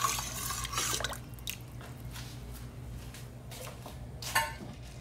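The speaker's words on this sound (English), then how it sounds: "Let's give it a stir." Vegetable stock is stirred in a pot of water, with wet sloshing and a few clinks of utensil against the pot, close and intermittent over a low steady hum.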